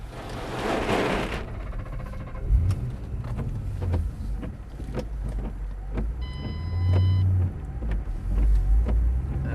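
A Ford Mustang Bullitt revs and rumbles while drifting on a track, its engine surging and dropping over about ten seconds, fairly loud and steady with low growling tones.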